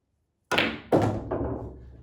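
Pool cue ball striking object balls on a table during an 11-ball rotation game, three sharp knocking impacts in quick succession after a silent start, close and clear.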